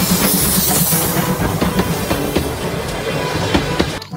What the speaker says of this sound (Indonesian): Widih, di sini ada kereta Thomas.